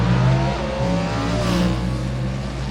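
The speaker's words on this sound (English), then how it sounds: "Smoke emanating from the exhaust as he pulls fourth gear, but he keeps his foot plowed into it." A Dodge Hemi drag race car at full throttle, its engine roaring loud and steady as it pulls through fourth gear, with rising harmonic tones and no talk.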